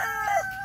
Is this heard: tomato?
no